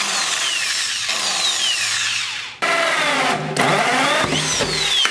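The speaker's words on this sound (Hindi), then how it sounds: "ड्रिल मशीन पे ये चला जाएगा और ड्रिल मशीन को टाइट करना पड़ेगा" An electric drill fitted with a hole saw grinds steadily through a workpiece to cut a large round hole, a continuous loud whir that dips briefly midway before resuming at full strength.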